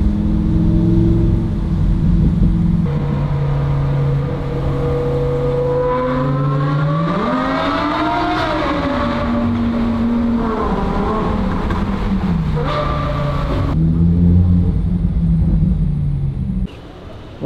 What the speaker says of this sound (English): Jump into the car, Eddie.